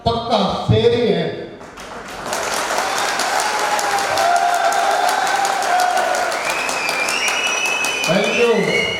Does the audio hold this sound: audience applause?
yes